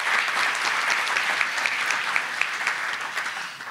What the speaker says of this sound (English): Danielle Casaltli of UC Davis School of Law, who is not here but again deserves applause.